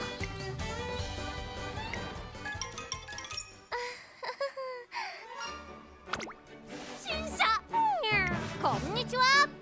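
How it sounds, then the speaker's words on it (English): A cat meows a few short times in the Umamusume: Pretty Derby video game, heard amid game music, jingling effects and a person talking over it. "did I just hear the cat meow?"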